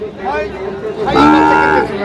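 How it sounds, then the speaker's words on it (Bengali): Sahiwal bull calves at a cattle market, with two loud, close moos in a row: the first is shorter and the second is longer and stronger. "কেমন দামে শাহিওয়াল জাতের ষাঁড় বাছুর গরুগুলো বেচা কেনা হচ্ছে"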